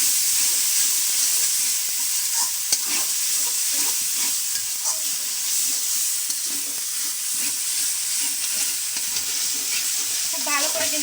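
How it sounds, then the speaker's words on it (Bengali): Prawns fry in a spiced masala while being stirred, a loud continuous sizzle with scattered spatula scrapes and clicks throughout. "এখন দিয়ে দেবো চিংড়ি মাছগুলো। এখন কিন্তু চিংড়ি মাছগুলো একটু কষিয়ে নেব।"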